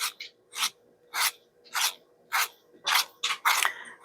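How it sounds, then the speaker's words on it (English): A pencil being sharpened with a run of about eight short, crisp rasping strokes at a steady, slightly quickening rhythm, close and fairly quiet with no talking. "Do a little sharpen."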